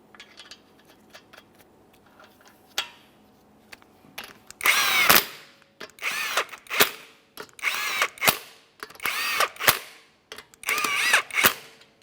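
A power tool snugs 19mm lug nuts on a Subaru Outback wheel in a series of short, loud rattling impact bursts, about six in a row after a few faint clicks, close by with no talking.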